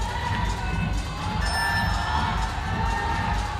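Stadium crowd at a women's bouldering semi-final climbing competition in Hachioji cheering and shouting in a steady, dense roar that swells slightly, with no distinct voices standing out.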